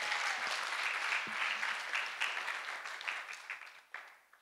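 A church congregation claps in praise during a testimony service, steady broadband applause that stays fairly full before thinning and fading toward the end.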